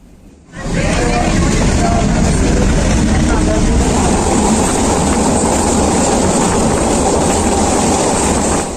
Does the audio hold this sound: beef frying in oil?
no